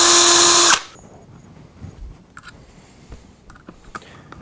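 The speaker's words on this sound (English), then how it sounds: "drill pilot holes to make sure that the wood doesn't split" A power drill whines loudly for under a second as it bores a pilot hole in wood during speaker cabinet assembly, then stops, leaving quiet room noise with scattered light clicks and handling taps.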